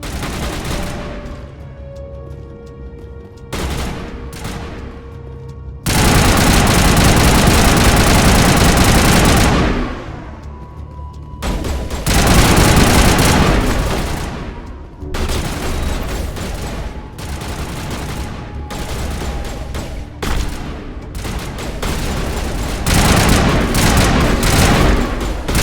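Heavy gunfire in the video game Mass Effect comes in long loud bursts and sustained volleys, some rattling and some booming, with a steady engine-like hum beneath and brief quieter gaps.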